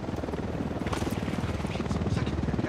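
A helicopter in the video game Ghost Recon Wildlands flies close by with a steady, loud rotor thrum and a rapid pulsing beat throughout.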